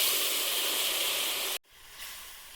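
Water poured into a hot pan with a fish head, catla, hisses in a loud steady sizzle with steam for about a second and a half, cuts off sharply, then resumes as a softer bubbling sizzle.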